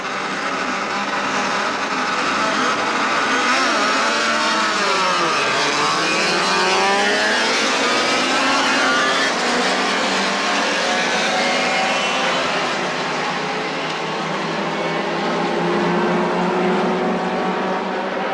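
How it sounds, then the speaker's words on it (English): Touring cars, including a Toyota Celica, Mazda and BMW, roar away from the start of the 1981 Surfers Paradise 300. Loud, continuous engine noise with rising and sweeping pitches as the pack accelerates, filling the whole stretch. "Good start from Brock, but Johnson challenging on the inside"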